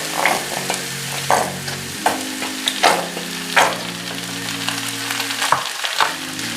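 A spoon scrapes and knocks repeatedly through chicken bread filling with chili sauce as it sizzles loudly in a pan, in an uneven rhythm of strokes over a low steady hum, with no talking.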